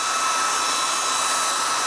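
A hair dryer blows steadily at close range over waxed leather, a constant broadband whoosh with no pauses and no voices.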